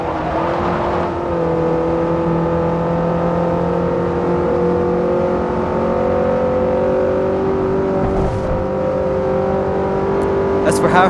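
A Kia Ceed driven on a track in Forza Motorsport 4 holds a steady engine drone with the pitch slowly rising, loud and continuous throughout, with a brief extra noise near the end.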